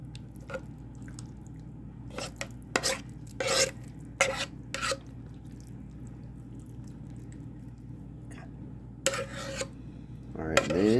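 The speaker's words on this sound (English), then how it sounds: "just spoon the mixture into the pie crust" Pie filling is spooned into a pie crust in a pan, with a string of wet squishes and spoon scrapes against the dish, some louder bursts, close by and without talk.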